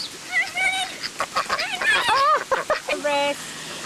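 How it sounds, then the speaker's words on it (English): Ducks quack and honk close by during an outdoor feeding, a busy run of rasping, rising calls in quick bursts with short gaps and one longer nasal call near the end. "I'll scare one of the ducks away."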